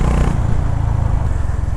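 Honda CB 350 RS motorcycle engine and exhaust while riding, a steady low thumpy drone with dense pulsing throb close up, mixed with rushing road and wind noise and no talking.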